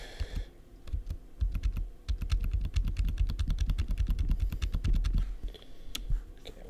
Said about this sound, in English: I do apologize if my keyboard's a little bit loud.